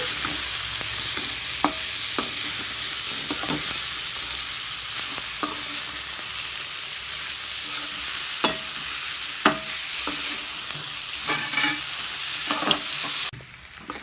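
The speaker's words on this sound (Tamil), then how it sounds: "காராமணி போட்டுக்கலாம். உப்பு, மிளகாத்தூள், மஞ்சத்தூள் நல்லா வதக்கிக்கோங்க." Vegetables sizzle steadily in a hot pan with salt, chili powder and turmeric while a utensil stirs and scrapes now and then, producing scattered clicks over the continuous frying hiss.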